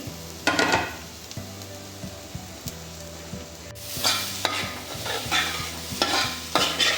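Prawns roasting in a pan over a medium-low flame for a Kerala-style curry: a steady close sizzle broken by repeated scraping stirs, with louder bursts of frying in the second half.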